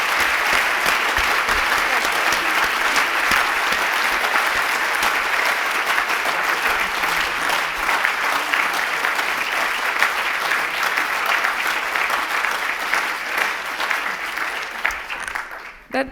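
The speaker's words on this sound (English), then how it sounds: "I think she deserves a very big applause." Sustained, full applause from a lecture-hall audience after the 2016 Tans Lecture by Jo Marchant, a dense wash of clapping that continues for about sixteen seconds before tapering and stopping.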